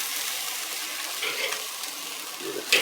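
Picanha beef searing on the hot side of a grill gives a soft, steady sizzle and hiss, fairly quiet and continuous, with a brief sharper crackle near the end and no talking.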